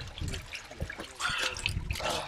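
Water is poured over someone's eyes to rinse out pepper spray, a steady trickling and splashing that grows fuller and louder about halfway through, with muffled voices now and then.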